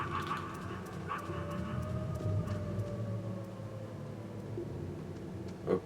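Dog in the video game Metal Gear Solid 5, making short yips and whimpers over a low ambient game drone, with a sharper bark-like burst at the very end.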